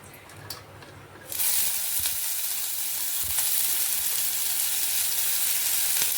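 Chana dal, urad dal and ridge gourd peel fry in hot oil, breaking into a loud, close, continuous sizzle after a quieter opening second, with faint stirring knocks underneath.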